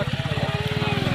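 A motorbike engine ticks over nearby with fast, even pulsing throbs, steady and unbroken through the brief moment.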